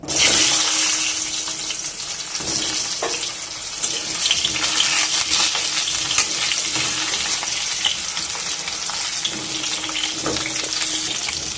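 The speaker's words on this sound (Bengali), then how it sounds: "আমি বেগুনটা একটু তেলে নেড়ে নেব।" Eggplant sizzles and is stirred in hot mustard oil in a pan, with a steady loud crackling fry and occasional scrapes of the spoon.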